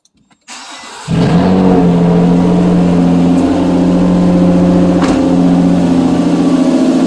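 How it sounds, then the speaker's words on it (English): A 2008 Nissan Altima cranks briefly and catches, its engine quickly rising into a loud, steady idle that runs on close to the microphone. "And start the vehicle up."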